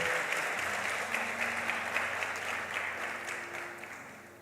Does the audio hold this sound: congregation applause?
yes